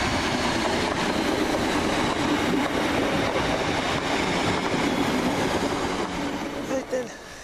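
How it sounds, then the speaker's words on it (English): A Southern Railway train on the Lewes to Brighton service pulls in at London Road station in Brighton, its steady rumble and rail noise filling the scene near and loud, then easing as it slows, with occasional voices nearby. "here it comes, my train out of here, 12:27, Southern Railway service from Lewes to Brighton"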